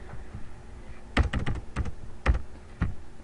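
Keystrokes on a computer keyboard come in short bursts of several sharp, close clicks, separated by brief pauses, with no voices.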